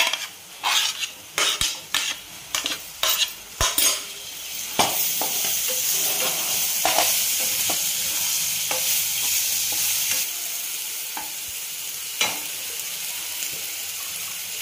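Tomatoes frying in oil spiced with chilli powder, stirred with a metal spoon in a pan: a run of rhythmic clinking scrapes gives way to a steady, close sizzle broken by occasional knocks of the spoon.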